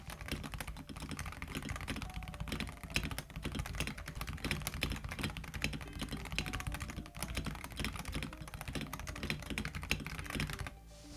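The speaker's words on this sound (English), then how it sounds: "If you want to turn your typing from this" Rapid, continuous typing on a computer keyboard, dense clicking keystrokes close up with no pauses, ending abruptly.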